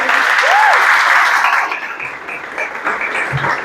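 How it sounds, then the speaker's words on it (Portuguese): A congregation at a church service applauds, a steady and fairly loud wash of clapping that fades slightly toward the end, with a brief voice or tone heard near the start. "Você pode aplaudir o Senhor?"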